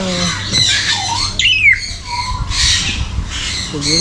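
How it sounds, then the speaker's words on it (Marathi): Parrots of many sizes and colours at the Essel World bird park in Mumbai squawk loudly and repeatedly nearby, harsh overlapping calls one after another. "सगळे इकडे पोपट आहेत"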